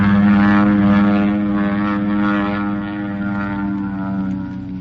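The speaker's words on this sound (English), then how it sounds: "That's no plane of ours. That's a Mitsubishi if I ever saw one." A Mitsubishi propeller aircraft passes overhead, its engine a loud, steady droning hum with a pulsing throb that slowly fades slightly as it moves away.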